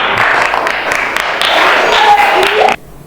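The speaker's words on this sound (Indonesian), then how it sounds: "Tepuk tangan buat kelompok" A classroom of students applauds a presenting student group, a broad wash of clapping that holds steady for under three seconds before stopping abruptly, with a faint tonal ping near the end.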